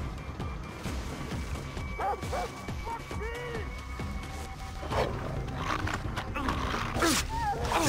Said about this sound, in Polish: Leż, ty głupi psie.